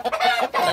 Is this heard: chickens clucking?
yes